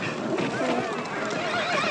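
A half-wild horse gives a loud, wavering neigh that fills the short stretch, with some background noise underneath.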